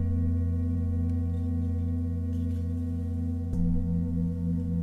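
Singing bowls ring in a sound massage, a steady sustained drone of layered resonant tones with a soft struck accent near the end, close and even with no talking.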